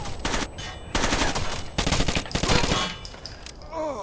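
Gunfire in the shooter game Rainbow Six Vegas 2, loud bursts of rapid automatic shots in several clusters with brief gaps, then quieter trailing sounds near the end.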